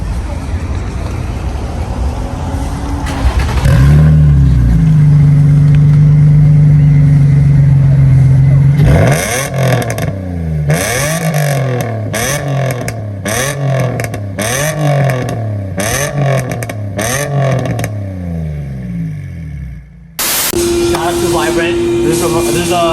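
Nissan VQ engine fitted with a resonator exhaust, recorded outdoors: a steady idle drone, then a long series of sharp rising and falling revs blipped in quick succession, loud and close, ending in a lower steady hum.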